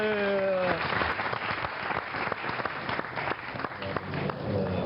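An audience applauds steadily on a Mozambican youth programme discussing the Rio+20 conference, a dense, even wash of many hands clapping close by. A voice speaks briefly at the very start, then the clapping carries on alone.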